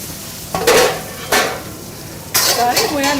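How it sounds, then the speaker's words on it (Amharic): Chicken pieces drop into a hot frying pan in a hotel kitchen, giving several short bursts of clattering and sizzling, close and fairly loud, with quieter pauses between them. "መጥበሻችን ስለጋለ ችክኑን እንጥላለን።"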